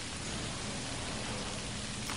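Rain ambience in the video game Prison Architect: a steady, soft wash of rainfall hissing evenly throughout, with no talk over it.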